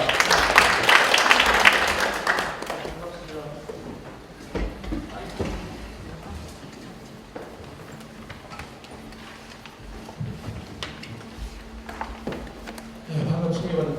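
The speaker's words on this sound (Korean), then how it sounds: "다시 한번 박수 부탁드리겠습니다." An audience at a university and regional conference keynote claps for a couple of seconds, a dense burst of applause that quickly thins to scattered claps and room noise.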